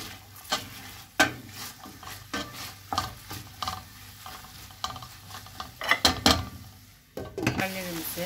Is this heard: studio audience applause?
no